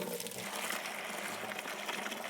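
Rust-removal liquid pours out of an old Honda three-wheeler gas tank in a faint, steady splashing trickle with no one speaking.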